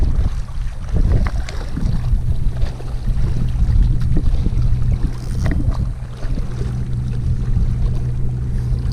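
Wind gusting across Castaic Lake in springtime, a steady rushing roar buffeting the microphone with occasional louder bursts, alone with no voices.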